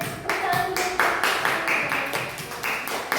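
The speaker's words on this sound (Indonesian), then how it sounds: "tepuk tangannya untuk kelompok 1" A small classroom group claps for a group of students during a teaching session, a few hands producing quick, uneven claps close by.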